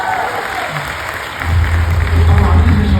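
Audience applause in a hall during a Malayalam motivational business talk, starting as scattered clapping under voices and swelling around halfway into a fuller, louder ovation with a low rumble.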